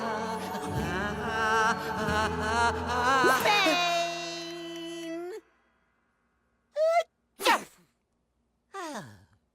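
A cartoon character sneezing in a silly song, with short loud voiced bursts and gasping breaths after a stretch of sung, musical vocalizing.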